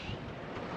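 Wind at an exposed sailboat anchorage, a faint, steady hiss and low rumble of air with soft buffeting and no other distinct sounds.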